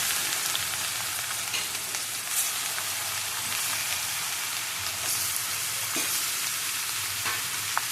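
Pieces of ash gourd hit hot oil in a pan, a steady close crackling sizzle with light stirring scrapes throughout, no voices.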